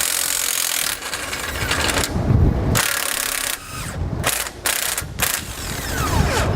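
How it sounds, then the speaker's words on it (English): A ratchet fitted with a 19mm socket loosens U-bolt nuts under a 2012 Mercedes-Benz, producing close, continuous rapid clicking and grinding with brief pauses between strokes. "We'll loosen these using a 19mm socket."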